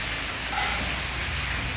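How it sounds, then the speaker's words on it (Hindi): Steady rain falls during a rainy-season outing, a dense, even hiss of drops on surfaces that holds constant throughout, with no voices. "सारी बारिश हो गई"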